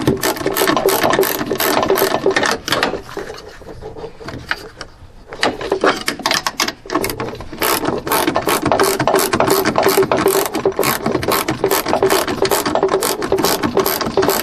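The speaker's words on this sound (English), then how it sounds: "Just gotta keep on ratcheting it off." Ratchet wrench clicking rapidly and continuously while backing a nut off a rear strut on a Lexus ES300, with a brief pause midway before the close, loud ratcheting resumes.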